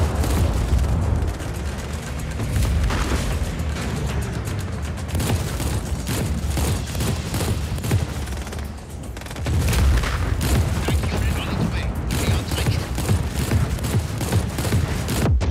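Continuous heavy gunfire and booming explosions from the video game Just Cause 4, loud and dense throughout with brief lulls.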